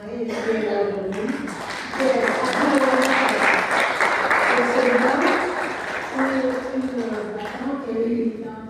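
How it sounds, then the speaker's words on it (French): An audience at a French public gathering gives sustained applause for an elected official, swelling and fading over several seconds while a voice keeps talking over it. "J'aimerais qu'on applaudisse une élue"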